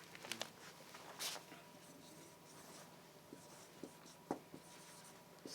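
Notes being written by hand in a biology lesson, faint soft scratching with a few light taps, quiet and close, with no talk over it.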